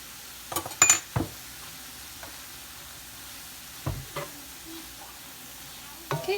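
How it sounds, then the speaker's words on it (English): Seasoned meat frying in a pan gets a quick stir: a soft continuous sizzle with a few scraping, clinking utensil strokes against the pan, in short bursts near the start, middle and end. "Then I'm just gonna give this a quick stir."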